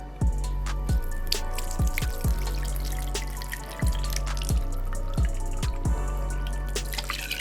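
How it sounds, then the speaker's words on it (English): Clam liquid strained through a kitchen strainer into a container, heard as a close, steady stream of dripping and splashing water with repeated sharp drops over a constant liquid rush, no voices. "we're gonna strain this liquid through here"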